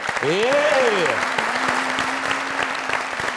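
A studio audience claps for a singer on a musical show, even, sustained applause running under a voice and a held musical tone.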